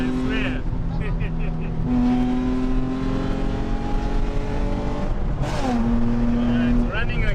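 A Nissan 350Z engine runs hard at full power with sustained droning tones that swell and shift pitch, heard close alongside road noise, with people talking over it.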